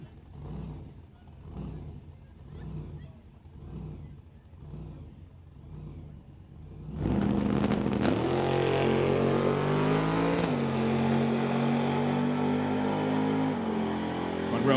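A 1931 Model A drag racing car in a Real Street class launches into a loud, sustained engine roar after quieter idle and a crowd murmur, its pitch climbing steadily as it runs down the strip.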